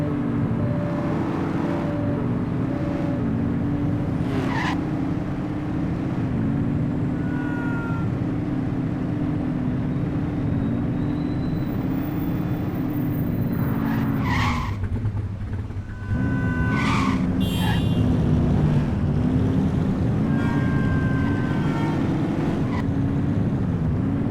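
A speeding car in The Precinct video game: a loud, steady engine drone holding for the whole stretch, with a brief dip and shift in pitch partway through, then carrying on just as strongly with no voices.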